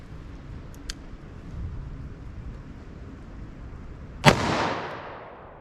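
.357 Magnum round fired from a short-barrel handgun outdoors: a single loud, sharp report about three-quarters through, trailing off in a decaying echo after a quiet stretch with a couple of faint clicks.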